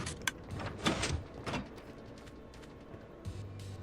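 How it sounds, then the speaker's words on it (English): A mechanical launch door in a Minecraft base slides open: a few sharp clunks and scraping bursts up front, then quieter rumbling and a low hum near the end, close and fairly soft. "That's the launch door. This button opens it."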